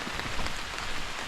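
Steady rain falls on the Appalachian Trail, a dense continuous patter of drops on surfaces close by, even and unbroken with no voices.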